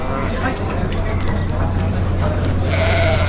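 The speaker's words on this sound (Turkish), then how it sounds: "Pazarın en temiz koyunları bunlar." Sheep bleat amid a busy livestock market in Kadirli, Turkey, with crowd chatter and people talking in the background throughout.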